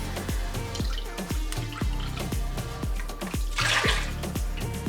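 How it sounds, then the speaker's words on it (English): Water and broth poured into a cooking pot make repeated bubbling glugs and drips in a loose, regular rhythm, close and moderately loud, with a brief splashier rush near the end. "we're gonna add our 1 cup of water"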